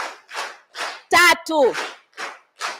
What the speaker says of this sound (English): let's give her 3 nyayo hearty claps